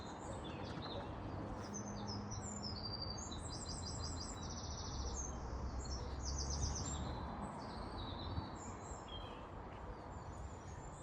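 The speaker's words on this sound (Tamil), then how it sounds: "ஒரு ஜாதி இந்த நீர்க்குருவிகள், நீர் பறவைகள்" Water birds call repeatedly along a small stream path, their chirps and tweets steady over a dense, continuous outdoor background of flowing water and rustle, moderately distant and without speech.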